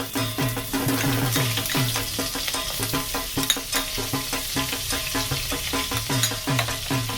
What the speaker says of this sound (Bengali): এই পনির ভাজার যে তেলটা আছে এতে আমি এই বাটারটা দিয়ে দেব